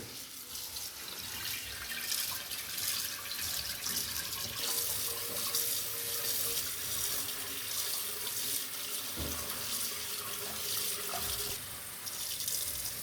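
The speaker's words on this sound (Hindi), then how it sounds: "अब हम इस बोल में वॉश कर लेंगे एक बार।" Rose petals are rinsed in a bowl under a running tap, with water splashing in a steady, close stream that continues without pause and without any talking.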